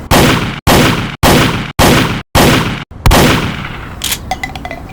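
Winchester rifle fired five times in a steady rhythm at a shooting range in an animated scene, loud sharp cracks with short gaps, followed by a final shot with a ringing tail and faint metallic clinks.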